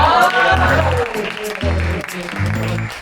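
Clapping from a small group, heard close, with voices and a low humming tone underneath.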